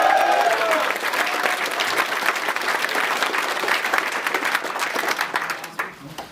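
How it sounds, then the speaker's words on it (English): A crowd claps steadily and densely for a medal winner at the closing ceremony of Warmachine Weekend 2012, a tabletop wargaming event. The applause is loud and sustained, then tapers slightly toward the end. "Everybody give him a round of applause."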